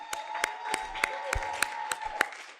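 Sparse, spaced claps from a gala cocktail audience honoring award recipients, a steady sharp rhythm of individual hand claps at moderate distance over a faint room hum, with no voices.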